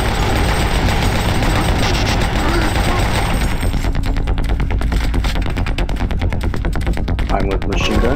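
Machine gun fire in the video game Doom 3, continuous rapid automatic bursts, loud and close, with engine-like rumble underneath and a sharper stuttering rhythm in the second half.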